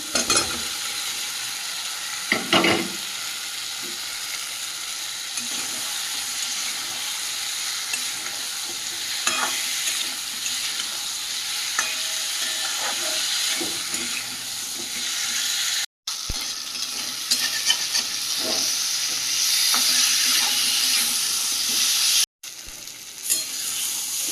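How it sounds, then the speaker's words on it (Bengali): Boiled potatoes are stir-fried in an oily spice masala, with a continuous close sizzle and frequent spatula scrapes against the pan, briefly cut twice, for a festive Bengali home meal. "মশলা থেকে তেলটাও ছেড়ে দিয়েছে এই পর্যায়ে সেদ্ধ করে রাখা আলুগুলো দিয়ে দেবো"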